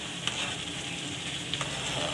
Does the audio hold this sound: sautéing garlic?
yes